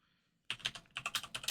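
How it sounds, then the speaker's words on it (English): Quick run of keyboard typing into a chat window, crisp close key clicks starting abruptly and continuing in a brisk irregular rhythm. "I'm typing this into our chat so that we've got it documented"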